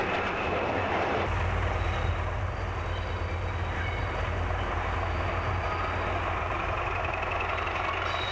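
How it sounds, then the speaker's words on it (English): A class 315 electric train runs past a DLR train waiting at a bay platform, making a steady loud rolling rumble and hum that carries throughout with no voices. "this class 315 is passing a DLR train in the bay platform."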